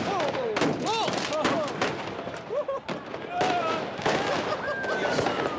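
Fireworks crack and bang repeatedly in a crowded square in Colombia, sharp irregular bursts near and far, with whistling rockets and a noisy crowd shouting over them.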